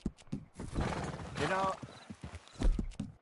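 A horse in a video game clip-clops along and lets out a clear whinny, with people talking over the hooves.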